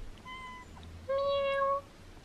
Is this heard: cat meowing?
yes